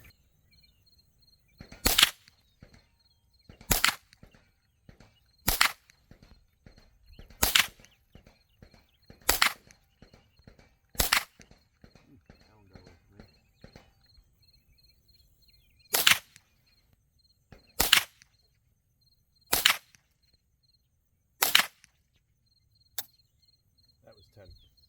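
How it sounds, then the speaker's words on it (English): Ten sharp rifle shots from a Ruger 10/22 TALO firing CCI rounds, evenly spaced at a brisk pace with a short pause after the sixth, over faint insect chirping. "we're going to shoot 10 shots at the top right target"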